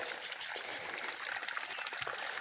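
Small trickle of running water from a supply that has slowed to a thin flow, steady and close, with a continuous soft hiss and splashing and no voices.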